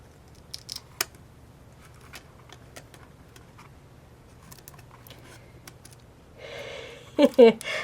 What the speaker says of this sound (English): I need to cut a little bit off the top here so it doesn't overlap that A too much.